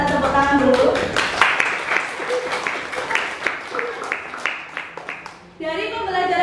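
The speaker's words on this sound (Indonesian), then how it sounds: "kita tepuk tangan dulu" Classroom of students clapping together during a school dance lesson, a dense rattle of hand claps running several seconds under children's voices before fading, with talk resuming at the end.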